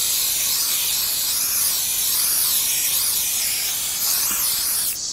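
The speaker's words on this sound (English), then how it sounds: "So I spray it on top of stabilizer" A can of basting spray is aimed at embroidery stabilizer, giving one continuous, loud aerosol hiss that holds steady for about five seconds before cutting off. No voices are heard.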